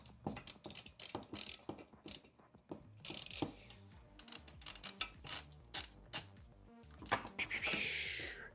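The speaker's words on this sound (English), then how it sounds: "Hex wrench through the hole to line it up with the roll-in." Metal hand tools working M4 bolts into a Mellow VZ-235 3D printer Z axis build: a busy run of close, loud clicks, taps and ratcheting clatter from a hex wrench on hardware, ending in a louder rattling burst.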